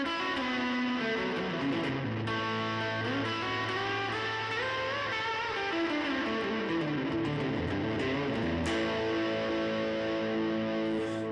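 An electric guitar runs through delay and reverb into distorted amps, sustained chords and notes ringing continuously with long echoing tails, loud and steady, played alone without voices.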